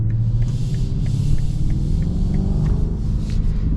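Steady low engine rumble from a 2026 BMW X5 M60i cruising in sport mode, heard from inside the cabin as a continuous even drone with no voices over it.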